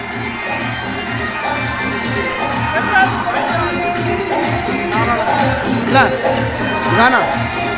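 A large election rally crowd applauds and cheers continuously, dense clapping and shouts with louder whoops rising near the end.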